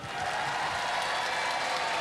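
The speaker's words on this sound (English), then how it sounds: "give them a round of applause" Audience applause at a Robot Wars robot-combat event fills the space as a dense, even wash of clapping from a crowd, sustained throughout without letting up.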